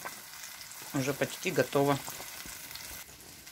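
Onion, carrot, tomato and beet with tomato paste sauté in a pan for borscht, a steady sizzle and frying crackle running throughout while someone speaks briefly over it.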